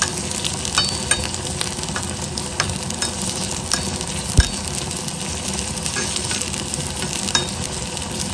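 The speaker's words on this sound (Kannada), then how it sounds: "ಈಗ ಈರುಳ್ಳಿಯನ್ನು ಸ್ವಲ್ಪ ಹುರ್ಕೊಂಡಿದ್ದೆ, ಬೆಳ್ಳುಳ್ಳಿಯನ್ನು ಸೇರಿಸ್ಕೊಳ್ತಾ ಇದ್ದೀನಿ." Onion and crushed garlic fry in a pan over a medium gas flame for a Havyaka-style basale leaf sambar, giving a steady close sizzle broken by occasional scraping and tapping of the stirring spoon.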